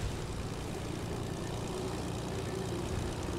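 A propeller airplane drones overhead in Fortnite, a steady low engine hum that holds even and unbroken for a few seconds with no talk.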